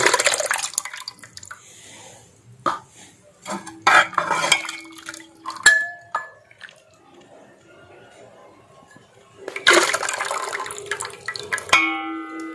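Saffron is stirred into thick sugar syrup in a pot for a halwa, producing scattered metallic clinks and scraping against the pot, with quieter stretches between bursts of stirring.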